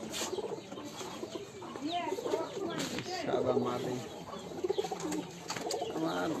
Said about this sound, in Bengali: ভাইয়ের বাসায় মোটামুটি কবুতর আছে